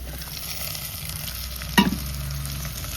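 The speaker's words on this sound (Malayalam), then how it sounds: "ഈ ഉള്ളി ഒന്ന് നല്ലോണം വാടിയട്ടെ നമ്മൾ ഉള്ളി വാടിയേക്കില്ലേ ഈ തക്കാളിയും അതേപോലെ രണ്ട് പച്ചമുളകും കുറച്ച് കറിവേപ്പില കേട്ടോ ഇതെല്ലാം ഒന്ന് ഇട്ട് കൊടുക്കാം" Onion, tomato, green chilli and curry leaves sauté in a clay pot with a steady close sizzle, broken near the middle by a brief clatter as the vegetables go in or are stirred.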